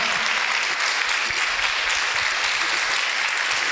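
A church congregation claps loudly and steadily in praise during a Spanish-language sermon, a dense burst of applause for a few seconds with little else audible.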